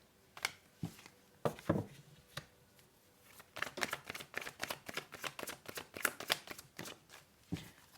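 Tarot cards being shuffled by hand, a series of soft irregular riffles and slaps, sparse at first and then quicker, close and quiet.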